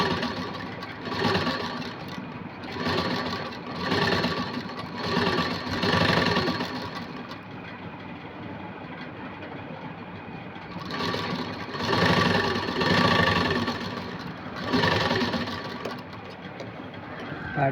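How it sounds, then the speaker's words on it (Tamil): Sewing machine running a straight seam through cloth near an aari-worked neckline, its motor whirring in repeated bursts with short pauses between runs. "ஸ்ட்ரைட்டாக ஒரு தையல் போட்டுருங்க. ஏன்னா அந்த கிளாத்து விலகாமல் இருக்கிறதுக்காக இந்த தையல்."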